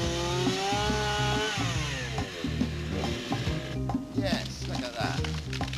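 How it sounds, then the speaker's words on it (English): A chainsaw whines and revs while cutting a tree during a snow tractor salvage job, its tone rising and falling through the cut, loud and close with some talk mixed in. "Get the chainsaw out."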